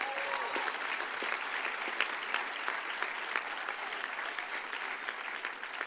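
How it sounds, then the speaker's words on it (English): Audience applause at a Stanford Law School graduation ceremony, a large crowd clapping steadily and densely throughout, moderately distant in a big space. "So give them a round of applause for that."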